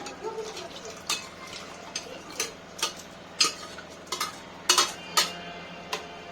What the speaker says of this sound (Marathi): यात आपण आता उकडलेलं मटण टाकून घेणार आहोत। हळूहळू मटण टाकून घ्यायचं।